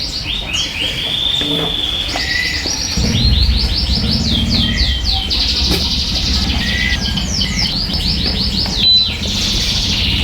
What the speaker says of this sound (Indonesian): itu ada suara bunyi kenari ya